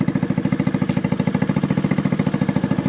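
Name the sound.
Honda Navi idling with Vance & Hines performance exhaust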